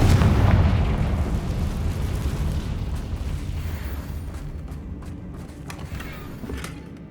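A loud booming blast from the Confringo fire spell in the Hogwarts Legacy video game, a heavy explosion at the start that slowly rumbles and decays over several seconds.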